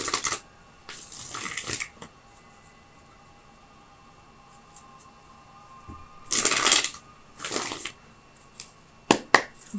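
Tarot cards shuffled by hand in a few separate bursts of close, crisp riffling and rustling, split by quiet stretches with a faint steady hum behind, and no voices.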